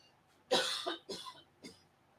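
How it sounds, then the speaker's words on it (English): Three harsh coughs in a row, close and fairly loud, the first the strongest, with quiet pauses between them. "Hold on, I got a cough."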